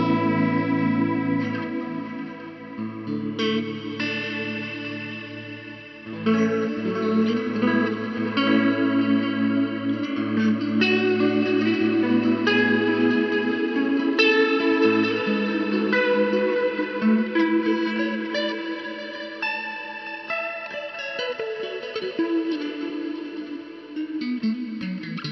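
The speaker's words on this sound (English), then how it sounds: "Let's get some verb and delay on there." Guitar played through a Coral Mod vibe pedal with overdrive, reverb and delay, sustained chords and notes swirling and pulsing with a lush, echoing tail, played alone and steady for about twenty-five seconds.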